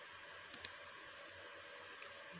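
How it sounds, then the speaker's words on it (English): A computer mouse clicks on a resubmit button: a quick double click, then a single faint click about 1.5 seconds later, over a low, steady room hum. "You click on resubmit."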